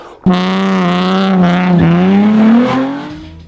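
Nissan 350Z exhaust revving hard in a single sustained pull, a loud, close engine drone rising in pitch over about three seconds before easing off.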